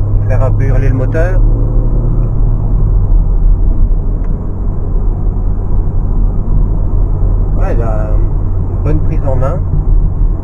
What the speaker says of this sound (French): Faire un peu hurler le moteur.